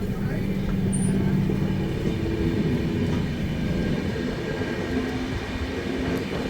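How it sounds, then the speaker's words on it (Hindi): Inside the 20452 Intercity Express from Delhi to Sogaria, the train runs at speed past Faridabad New Town station, with a dense, continuous rumble of wheels and carriage noise throughout. "हमारी गाड़ी की रफ्तार तो देखो"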